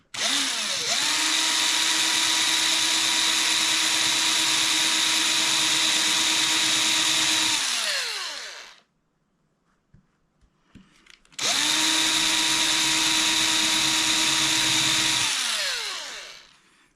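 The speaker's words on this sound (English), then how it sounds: "So if we run the drill bit backwards," Drill bit spun in reverse to countersink thin plastic, two long loud whirring runs of the motor, each winding up and spinning down, separated by a few seconds of near silence with small clicks.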